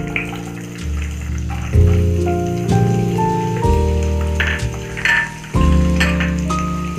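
Chopped onion for kanda poha drops into hot oil and sizzles in a steady, loud crackle, with a few bumps and clinks from the pan as it fries, and no one speaking.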